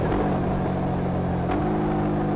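A Yamaha R15 motorcycle with an electronic throttle and up/down quick shifter runs at steady engine revs, with a brief clipped cut at the gear change before the tone resumes at a slightly lower pitch.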